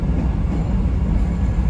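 A CTA Purple Line train at Howard station in Chicago at night gives a steady, loud low rumble with rail noise throughout, and no voices over it.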